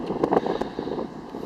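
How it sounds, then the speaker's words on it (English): Gusty wind buffets outdoors at a Blade 350QX quadcopter launch spot, strong enough to spin the props, with a rough, uneven roar in short bursts and no talk. "That's how windy it is right now."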